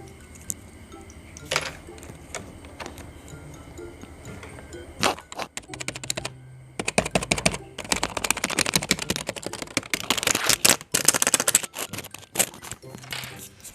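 An old computer keyboard, passed down from the previous generation, typed on up close: irregular clicking keystrokes that start sparse and soft, then build into dense, rapid clatter toward the end.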